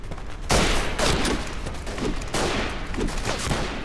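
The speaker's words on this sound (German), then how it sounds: "Wer schießt denn hier?" Rapid bursts of rifle and machine-gun fire in the World War I shooter game Verdun, loud overlapping shots cracking in repeated volleys across the whole stretch, with no talking.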